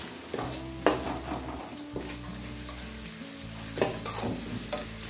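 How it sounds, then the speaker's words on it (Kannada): Mango rice gojju, made without garlic or onion, sizzles steadily in hot oil in a pan while a spoon stirs it, with a few louder scraping strokes over the continuous close-up frying. "ಎಣ್ಣೆಯಲ್ಲಿ ಸ್ವಲ್ಪ ಫ್ರೈ ಆಗಲಿ"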